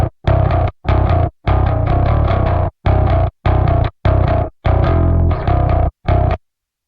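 Metal bass guitar tone built from two layered signals played together, heavily distorted and aggressive, in a series of loud sustained chugging phrases separated by short stops, no voices.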